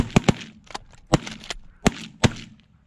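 Several sharp, booming shotgun blasts from a 10 gauge double barrel fired outdoors during a goose hunt, six or so reports spaced irregularly over a few seconds, loud and close with brief decays between them.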